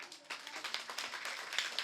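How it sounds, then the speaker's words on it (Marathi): Scattered clapping from a kirtan audience for the men's group, a modest, uneven patter of claps at moderate distance, fairly quiet, with faint voices in the background. "आमच्या पुरुष मंडळासाठी एकदा जोरदार टाळ्या वाजवा."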